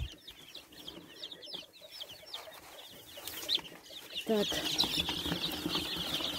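A noisy flock of young chicks, about a week apart in age, cheeps in a busy poultry yard, with high peeping throughout and some louder clucking near the end, while a person speaks briefly.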